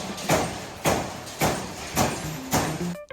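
Large metal-forming machines in a factory making racks, shelves and lockers, producing a series of five heavy rhythmic thumps and clanks about half a second apart over a continuous industrial hum.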